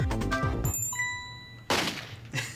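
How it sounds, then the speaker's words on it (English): A bell rings in the Ghost Trick: Phantom Detective video game, a bright ding with sustained ringing tones after some low musical notes, followed by two sharp impact crashes. "we're gonna ring a bell"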